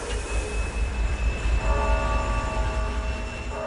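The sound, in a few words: train running on rails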